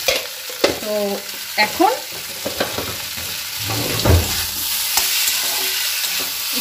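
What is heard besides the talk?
stirring sweetened food in a frying pan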